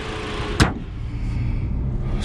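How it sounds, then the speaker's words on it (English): A 2022 Haval H6 SUV pulls away, its engine and road rumble steady from inside the cabin, with a short sharp click or thump near the start before the low drive noise continues evenly. "Let's drive the car and see how it performs."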